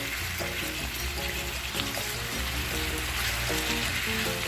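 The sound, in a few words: carne asada cooking in a pan on high heat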